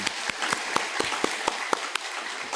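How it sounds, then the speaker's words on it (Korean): A church congregation claps in a steady, moderately paced rhythm, roughly ten distinct hand claps in unison over a couple of seconds, fairly close and without talk. "박수로 하나님께 올려드리겠습니다."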